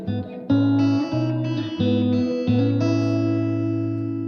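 Pulsar Primavera spring reverb with the presence control turned up for a brighter tone, a few loud sustained notes played in a short phrase, each ringing out with a shimmering spring tail, no voices.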